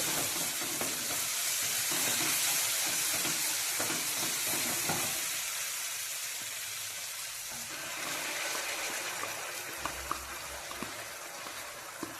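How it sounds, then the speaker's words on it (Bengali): Tomato paste fries in spiced masala with oil separating, the pan giving a loud, steady sizzle under continuous stirring and scraping, close up, with no talking. "এটার মধ্যে এবার আমি টোম্যাটো পেস্ট অ্যাড করবো"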